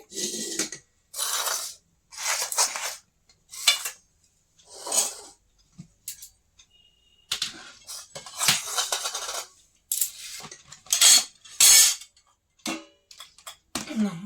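Metal lids and dishes go onto pots of cooked lentils, bottle gourd greens and fried eggs in a home kitchen, making a series of close clinks and clatters separated by short silences.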